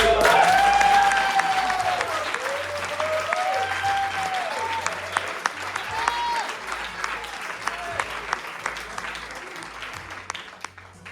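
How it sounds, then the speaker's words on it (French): An audience at an improv show applauds a team after a song, steady clapping that starts loud and slowly thins toward the end, with sung or spoken voices over the start. "Ok, on peut les applaudir."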